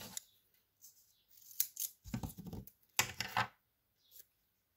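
Scissors cut through tape in a few quick, crisp snips and rustles, separated by short pauses, close up and fairly quiet.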